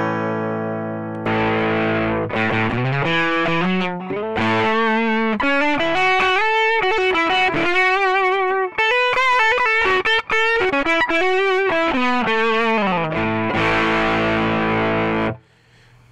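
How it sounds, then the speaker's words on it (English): A guitar played through an AdrenaLinn Sync v2 warm, tube-style distortion effect, sustained overdriven chords and bending notes ringing loud and saturated. "creates a very tube-sounding distortion at gains up to 500 times"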